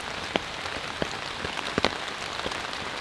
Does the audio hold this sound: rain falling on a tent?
yes